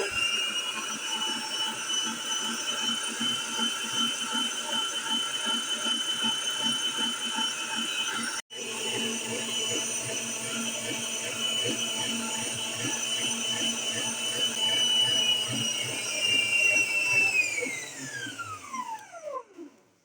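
Stand mixer whirring at speed five as it beats batter for a 2 kg strawberry sponge cake, a steady loud motor drone with a brief dropout midway, then winding down to a stop near the end.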